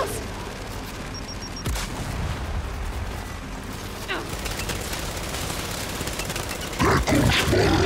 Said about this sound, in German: Und der nervt mit seinem Deckungsfeuer